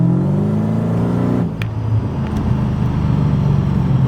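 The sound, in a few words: Mercedes CLK55 AMG engine revving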